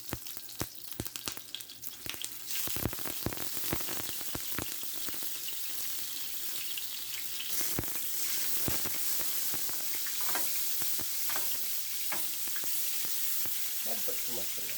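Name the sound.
butter sizzling in hot oil in a pan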